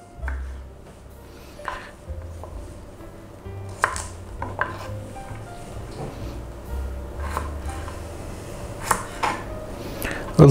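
A knife chops green garlic on a board in a home kitchen, giving sparse, irregular taps over a steady low background hum.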